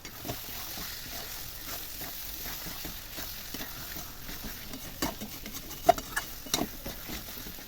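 Shelled peas are stirred into a stingray curry with potatoes, sizzling continuously as a spatula scrapes and taps the pan in uneven strokes, close and moderately loud, with a few sharper knocks near the end.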